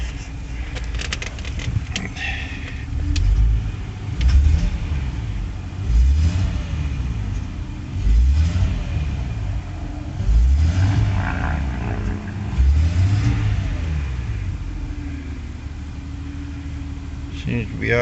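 A 1994 Jaguar XJ12 V12 engine runs at idle, a steady low hum that swells in repeated revs and settles back, close by, with someone talking over it.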